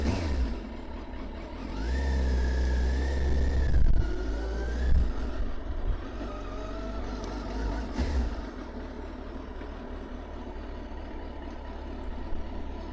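A motorcycle riding a figure 8 exercise, its mid-pitched engine rising and falling as it revs through the turns, fairly close at first, then settling into a steadier, quieter hum.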